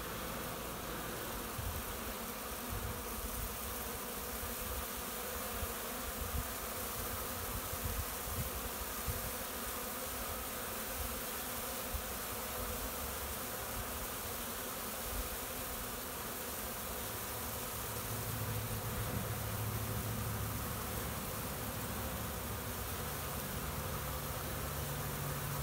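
A honeybee swarm buzzing around a box of old brood comb set out as a lure, a dense continuous hum of many bees filling the air steadily throughout, close and loud, with no talking.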